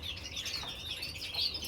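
Birds in breeding season chirp softly and continuously, with high faint twittering calls repeating against a low background rumble.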